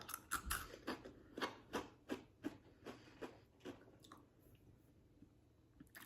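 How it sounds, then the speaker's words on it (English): Someone bites and chews a crunchy garlic chip in bed, making a quick run of close, crisp crunches that slow and fade into softer chewing, faint and alone. "let's taste test a garlic chip"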